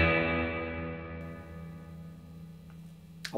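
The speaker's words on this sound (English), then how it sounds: "Here's with the dwell control up and the reverb control turned down a little bit for a brighter verb." Electric guitar chord ringing through a ScreaminFX Uverbia real spring reverb pedal set bright, with dwell up and reverb down, a sustained shimmering decay that fades slowly before a faint pick noise at the end.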